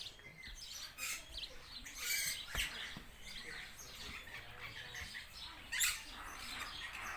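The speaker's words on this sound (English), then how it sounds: "King parrots." King parrots calling inside a breeding aviary, giving bright, scattered chirps and squawks at moderate distance, with a couple of sharper calls standing out among the chatter and no talking.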